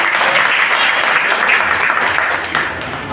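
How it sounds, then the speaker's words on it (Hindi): Loud, steady applause from an audience at a market welcome event in Palam Colony's Sadh Nagar Market, sustained and close, tapering slightly near the end. "जोरदार तालियां।"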